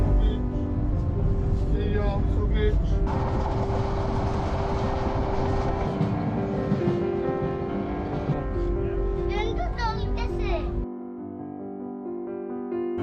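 Heard from inside a moving passenger train bound for Akhaura station in Bangladesh, a constant loud rumble with droning tones runs throughout and drops to a quieter hum near the end.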